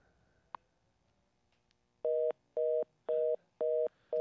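A telephone line tone after a caller hangs up on a radio call-in show: five steady, evenly spaced beeps of about a quarter second each, loud and clear after a brief faint click.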